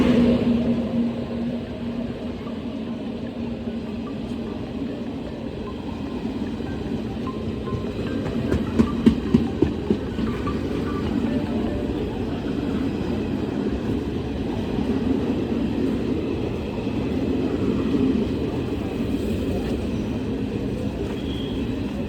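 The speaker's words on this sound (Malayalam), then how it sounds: "അപ്പുറത്തൊരു ട്രെയിൻ വന്നിട്ടുണ്ട് കേട്ടോ. ഇത് 120/76 കോഴിക്കോട് ജനശതാബ്ദിയാണ് കേട്ടോ." Kozhikode Jan Shatabdi express (12076) rolling past on the adjacent track: a steady, close rumble of wheels and carriages with a brief burst of clacking over rail joints midway, and no voices.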